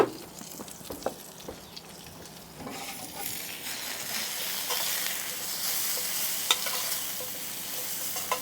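Zucchini sizzles and fries in a very hot pan, a steady hissing crackle that builds and stays loud, with a few sharp stirring clinks and scrapes early on.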